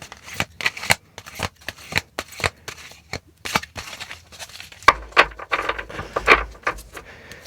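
Tarot cards are shuffled by hand in quick, irregular riffling bursts separated by short pauses, close and moderately loud.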